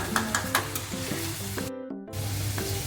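Onions and tomatoes being sautéed in a pan for a Malvani prawn curry, a steady close sizzle with a spatula scraping and stirring in short strokes and a brief drop to near silence partway through.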